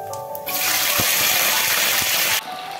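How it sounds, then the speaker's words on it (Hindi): Potatoes dropped into hot oil for frying aloo with methi and palak, a loud, continuous sizzling hiss that bursts in suddenly and then cuts off after about two seconds. "पहले हम तेल में आलू को अच्छी तरह से फ्राई करेंगे"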